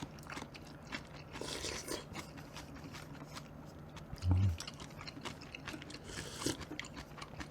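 Homemade braised lotus root and braised tofu side dishes are chewed up close, with faint soft crunches and bites scattered over a quiet background.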